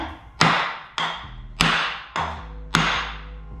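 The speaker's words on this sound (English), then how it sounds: "Give it a couple good whacks." Five sharp hammer whacks on an engine crankshaft to seat the thrust bearing, each a loud metallic thud with a ringing decay, spaced about half a second apart with no talking.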